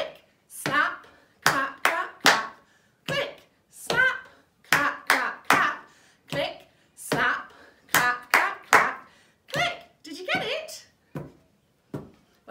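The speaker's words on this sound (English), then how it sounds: "Slap, clap, clap, clap, click. On top of the marching feet." Children's body percussion in a classroom music lesson, with slaps, claps and finger clicks in short repeating groups. A teacher speaks the pattern aloud over them.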